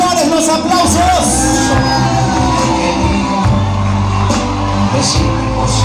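Wedding guests cheer, whoop and shout as a crowd at a wedding celebration, with loud continuous hubbub and music under it throughout; clapping is not clearly distinct.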